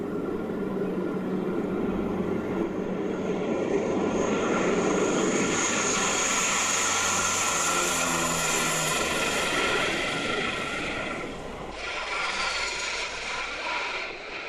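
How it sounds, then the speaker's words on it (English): A World War II C-47 transport plane's piston engines start up and run, a steady loud propeller drone that swells, holds, then shifts pitch and eases slightly toward the end, with no talking. "This C-47 beauty since World War II is waking up for the first time in 10 years."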